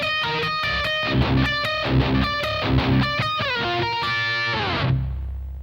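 Heavily distorted electric guitar break, with fast chugging low notes and bending high leads in an even rhythm, played alone and close before ringing out.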